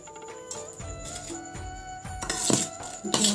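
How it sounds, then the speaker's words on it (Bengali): Washed rice is dropped into a pressure cooker, with a few soft metallic clinks and scrapes followed by two louder rattling pours near the end. "এখন আমি দিয়ে দিই প্রেশার কুকারে চালগুলো।"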